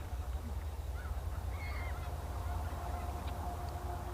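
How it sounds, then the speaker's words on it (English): White-fronted geese and snow geese honk faintly at a distance over a steady low rumble of wind or water, calls scattered through the clip, in autumn. "I kept running into flock after flock of white-fronted geese, snow geese, ring-billed gulls"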